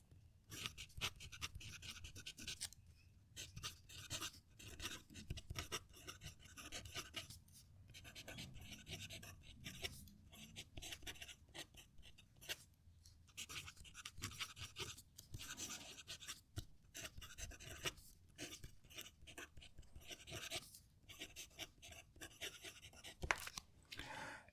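A Jinhao 100 fountain pen writing a sentence on paper, with a faint, close, scratchy nib rasp in uneven strokes and brief pauses, continuing steadily with no talking.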